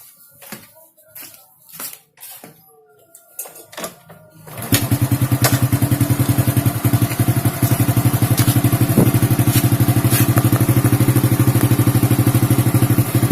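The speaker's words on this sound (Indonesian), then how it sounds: "Oke, ini motor saya nyalakan dulu." After some clicks and clatter, an old Honda Supra motorcycle engine starts and settles into a loud, steady idle with a rapid, even putter close by.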